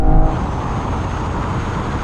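A BMW M4 in a drag race against an older M4 and an M440i gives a steady, loud engine roar under acceleration, with a slightly louder burst at the start then a constant driving drone.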